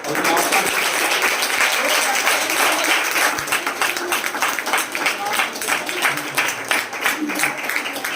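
A church congregation gives a loud, sustained round of applause during a Hindi-language worship service led by a pastor, dense clapping continuing steadily for several seconds.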